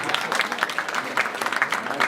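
Audience applause at a fundraising dinner, a moderate ripple of hand claps with some crowd noise, heard from the room at middling loudness for about two seconds.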